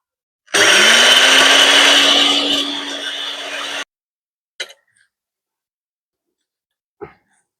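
An electric grinder whirs loudly for about three seconds while grinding roasted spices into homemade curry powder, its motor pitch sagging slightly before cutting off, followed by two brief faint knocks.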